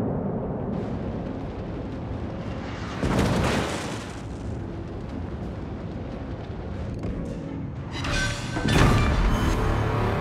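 Explosions from a destroyed enemy battleship in World of Warships, with a sustained roaring rumble and two louder blasts bursting through mid-clip and near the end, alongside ship fire.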